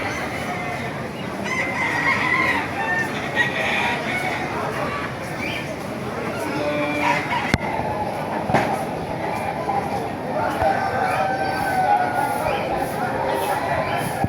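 Roosters and chickens crowing and clucking at a busy Calumpit market, several calls rising over a dense crowd hubbub with people talking throughout.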